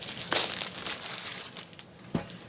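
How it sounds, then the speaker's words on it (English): Black plastic trash bag crinkling and crushing as an unboxing package is handled, a close, rustling texture with a sharp burst near the start and another crackle toward the end. "It has a black plastic trash bag"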